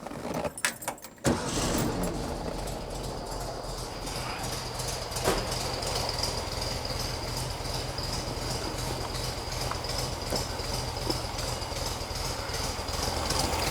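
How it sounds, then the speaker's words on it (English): Keys jangle briefly, then a 1957 oval-window Volkswagen Beetle engine cranks and catches, settling into a steady running rumble with faint rattles for the rest of the clip. "You can turn the key and it starts."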